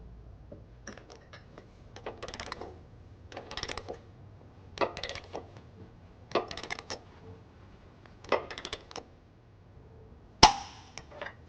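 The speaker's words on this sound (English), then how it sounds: "I'll take my torque wrench and I'm going to torque the bolts to 110 pounds" A torque wrench clicks repeatedly while hitch bolts on a 2014 Ford Edge are tightened to spec, in bursts of ratcheting and clicks separated by short pauses, with one sharp final snap. Close and fairly quiet.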